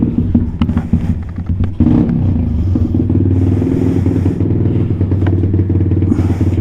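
A Venom Thunder 125cc motorcycle fitted with a Nibbi carburetor revs hard through a third gear wheelie, its engine note loud and close and climbing steadily, with a brief dip before pulling on strongly to the end.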